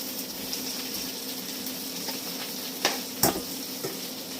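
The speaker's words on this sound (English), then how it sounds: "I'll just give these a stir, these veggies." Roasting vegetables get stirred in a hot pan, a steady sizzle running throughout with a few sharp scrapes and clinks of the utensil against the pan near the end, no voices.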